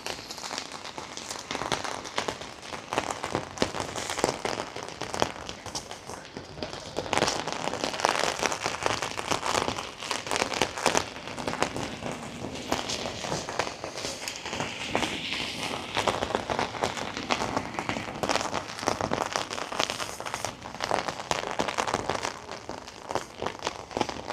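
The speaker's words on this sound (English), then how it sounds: "I'll shut my mouth for a minute and let you hear the rain" Heavy pouring rain on a Glasgow city street, a dense steady hiss and patter of drops on pavement and surfaces, loud and continuous with faint footsteps moving through it.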